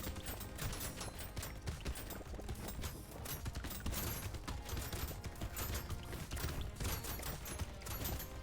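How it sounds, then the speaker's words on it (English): Rapid, dense stream of Gatling laser shots crackling continuously in Brotato, busy and loud throughout with clicky mechanical rattles mixed in, no voices. "Gatling laser might actually be my favorite weapon just because of how ridiculous it looks when it's working."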